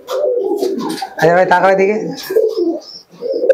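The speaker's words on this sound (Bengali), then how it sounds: "এটা আমার খুব শখের পায়রা।" A pet desi Giribaj pigeon, the young of a red pigeon, gives soft, close coos while someone talks to it nearby.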